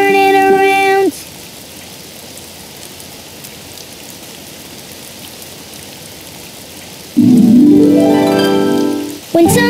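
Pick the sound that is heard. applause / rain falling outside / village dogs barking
rain falling outside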